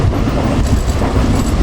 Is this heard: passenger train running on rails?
yes